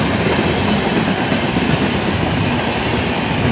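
The 22194 Gwalior Daund SF Express races through Shivajinagar station without stopping, a loud, close, steady roar of rolling wheels and carriages with faint clickety-clack.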